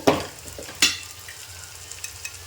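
Chilli powder and turmeric fry in oil for a coconut-milk mutton roast, with a low continuous sizzle broken by two sharp scraping stirs and a few light taps of the spoon.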